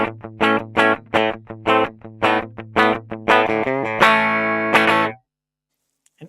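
Electric guitar played straight into a Fractal FM9 processor with no amp or cab, a distorted tone picked in rhythmic chugs and chords, then ringing out into a sustained chord that stops abruptly.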